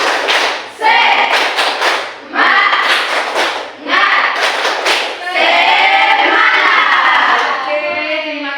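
Classroom children perform a rhythmic spirit clapping chant, loud bursts of group clapping and shouted chanting in short repeated phrases, ending in a longer sustained shout.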